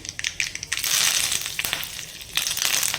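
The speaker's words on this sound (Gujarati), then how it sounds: "રાઈ થોડી કકડે" Mustard seeds crackle and pop sharply in hot oil for khandvi tempering, an irregular burst of snapping sounds close by, with no talking.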